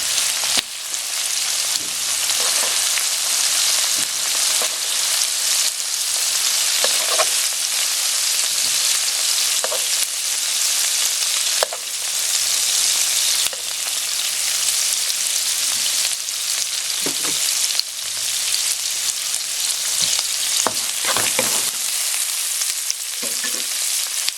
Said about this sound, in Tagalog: So, medyo lutuin lang natin ng konti yung shrimp.